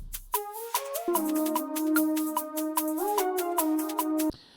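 Layered synth tones play together, one voice high and one low, moving through a short melodic phrase with plucky rhythmic hits on top.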